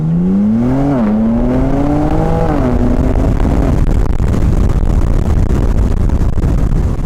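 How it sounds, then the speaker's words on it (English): Inside a BMW G80 M3 Competition driving over loose chippings, a constant broadband road roar fills the cabin, while engine tones rise and shift early on before the steady rumble dominates. "So this is quite a noisy road we're on."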